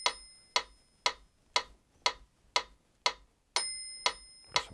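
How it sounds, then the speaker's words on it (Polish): Casio PX-S1000 digital piano's built-in metronome clicking alone at a steady tempo, nine crisp evenly spaced ticks with a brighter accented beat near the end. "Czyli tak klasyczny metronom, tylko że cyfrowy."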